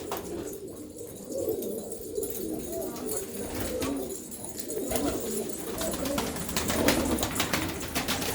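Pigeons inside a loft coo continuously in low, overlapping rolling calls, close by, with occasional rustles and a hint of wing movement throughout.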